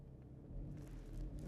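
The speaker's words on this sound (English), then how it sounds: "Now there's a car coming around the corner" A 2016 Volkswagen Passat 2.0 TDI diesel engine rumbles low and steady nearby as the car comes around a corner, growing slightly louder as it approaches.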